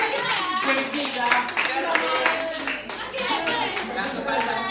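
A high school class claps for a student group, a lively round of hands mixed with children's chatter and a teacher's voice speaking over it.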